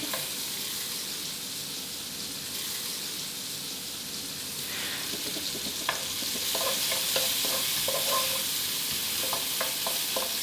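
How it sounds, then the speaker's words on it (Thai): Onions stir-fry in a hot pan as the base of a tomato spaghetti sauce, giving a steady, dense sizzle with light scraping and stirring that grows busier toward the end, with no voices. "นี้เรานำหอมใหญ่มาผัดให้เริ่มที่จะพอสุกหน่อยนะครับ"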